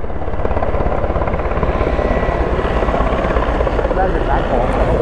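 A helicopter flies close overhead, its rotor thumping in a loud, continuous rapid pulse while people chatter underneath.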